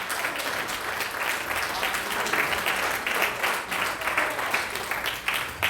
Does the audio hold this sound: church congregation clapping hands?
yes